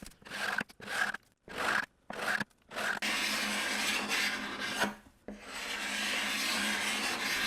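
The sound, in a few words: scraping teal paint off wooden coffee table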